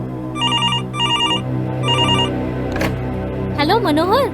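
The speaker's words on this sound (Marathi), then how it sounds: "एक फोन आला." Telephone ringing in repeated electronic bursts with short gaps, heard over a continuous backdrop of music.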